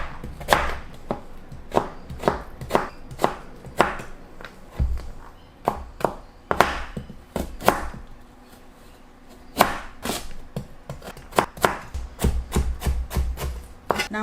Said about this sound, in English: Let's cut the radish.